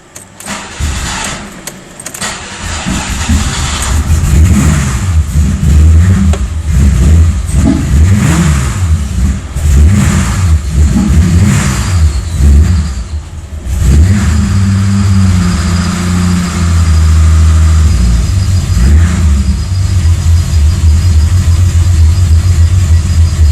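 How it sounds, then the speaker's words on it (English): BMW E28 fitted with a swapped M54B30 engine and a shorter differential, first start after the conversion: it cranks and catches, then settles into a loud, close idle broken by repeated sharp revs, with no talk. "This is the first start after doing that conversion."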